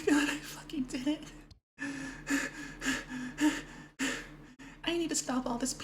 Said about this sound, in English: I need to stop all this panting.